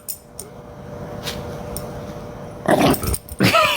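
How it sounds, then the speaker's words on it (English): A small dog named Pixie growls in short low rumbles that grow louder and rougher near the end, heard alone without talk. "She's growling."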